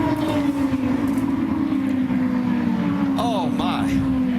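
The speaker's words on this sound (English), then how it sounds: "Trouble, contact, and a huge crash. Up in turn number 2." IndyCar race cars roaring around an oval during a multi-car crash in turn 2, a steady loud engine drone with a long sliding pitch, brief high whining accents near the end, under broadcast commentary.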